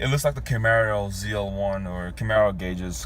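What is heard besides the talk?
No everyday noise stands out behind the speech.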